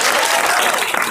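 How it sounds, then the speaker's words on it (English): Dense, loud applause fills the room as an audience claps for an improv storyteller at a college frosh show, a steady wash of many hands with no pauses. "We're going to go by order of applause"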